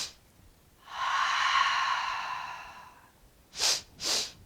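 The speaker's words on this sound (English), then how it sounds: "So the double breath is sniff, sniff on the inhale, exhale." A single person breathes close to the microphone: a long, airy breath, then two short, sharp sniffs in quick succession, with quiet pauses between.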